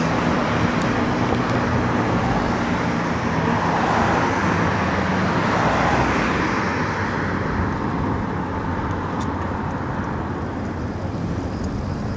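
Steady road traffic roars continuously on a ride home from the Wynn Resort, dense broadband rumble of passing cars and motor vehicles, close and loud with no speech.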